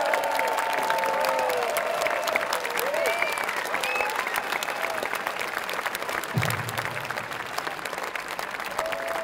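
A large arena concert crowd claps steadily and loudly for several seconds, with scattered whistles and cheers rising through the applause.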